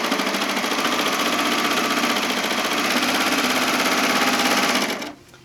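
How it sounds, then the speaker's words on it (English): A serger trims and overlocks fabric along a printed line for a peacock tote bag panel, running in a loud, steady, fast whirring buzz for about five seconds before stopping abruptly. "I'm going to line up on the serger. And I'm basically just going to cut along that printed line."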